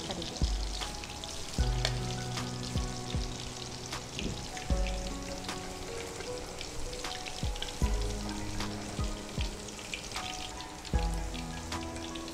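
Steady crackling sizzle of spices and curry leaves hitting hot oil for tempering, with scattered sharp pops and a low hum running underneath, no voices.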